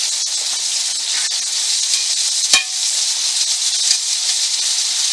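Opossum frying in a pan over medium heat, a steady close sizzle with a soft hiss running throughout and one sharp click midway.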